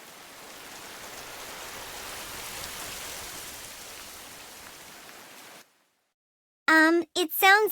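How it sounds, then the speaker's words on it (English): Steady rain falls as a broad, even hiss for about five and a half seconds, then cuts off abruptly into silence before a voice begins speaking. "It sounds like rain."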